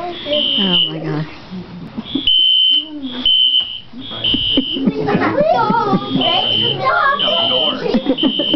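A child at a school play imitates a fire alarm, giving repeated high, steady electronic-sounding beeps in bursts, with other children and adults talking and reacting loudly around it.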